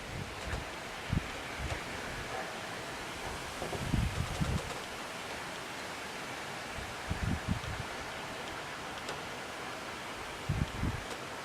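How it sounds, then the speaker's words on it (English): Gusty outdoor wind buffets the microphone in a steady broadband roar, with several louder low rumbling blasts rising above it over roughly eleven seconds; no talking. "And this wind is not helping."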